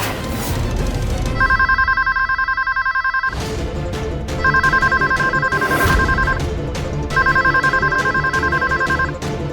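A home telephone rings unanswered in a TV drama, its electronic ringtone repeating in three loud bursts over steady background music.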